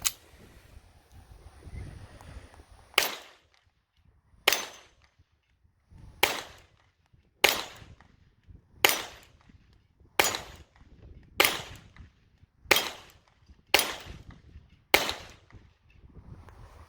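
A Browning 1911-22 .22 pistol fires ten sharp, loud shots at roughly even intervals of about a second and a half, each a crisp crack with a short decay, with quiet wind and handling noise between.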